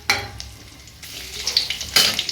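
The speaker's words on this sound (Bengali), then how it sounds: "দিয়ে দিচ্ছি তেলের মধ্যে তেজপাতা আর কাঁচা লঙ্কা।" Bay leaves and green chillies drop into hot oil while a fish curry with drumstick flowers is being cooked at home, giving a crackling sizzle with a sharp burst at the start and another near the end.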